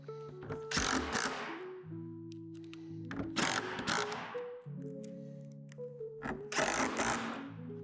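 Hardware is tightened during assembly of a Lifetime 8' x 5' outdoor storage shed, with a power driver whirring in several short bursts alongside ratcheting clicks and clunks from plastic panels, close and fairly quiet.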